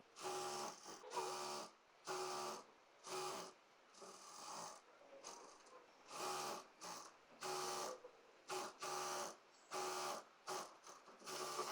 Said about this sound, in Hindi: यहाँ पर हमने डबल सिलाई कर ली है